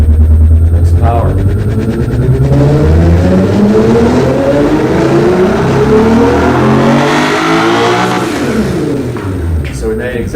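A car engine on a dynamometer runs a test pull, revving up steadily with rising pitch over several seconds, loud and close, before easing off near the end.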